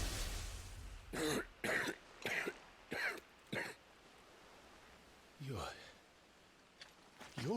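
A Final Fantasy XVI game character coughs in a run of five harsh, evenly spaced bursts, then makes a rougher throaty cough after a pause, heard over a quiet background.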